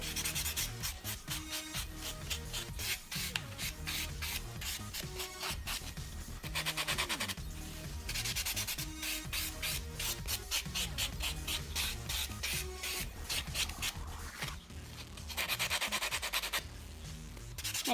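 Gel nails being buffed with a hand nail buffer, a steady close rubbing and scraping that runs continuously with brief pauses and changes in stroke, no voices.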